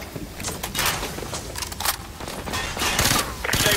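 Gunfire from Call of Duty: Modern Warfare 2 Remastered comes as dense, close bursts of automatic fire and overlapping shots in rapid, uneven volleys through the whole stretch.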